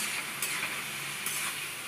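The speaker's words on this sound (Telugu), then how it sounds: "దీన్ని అయితే ఆయిల్లో ఫ్రై అవనిద్దామా." Egg prawns fry in oil in a pan, a steady close hiss of sizzling with two brief brighter spits, no voices.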